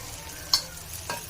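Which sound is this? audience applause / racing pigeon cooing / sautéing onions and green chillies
sautéing onions and green chillies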